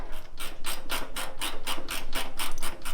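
Rapid ratcheting on the steering-arm bracket of a 1934 Plymouth rally car being rebuilt after a crash, a steady run of about a dozen evenly spaced clicking bursts, close and fairly loud, with no talk.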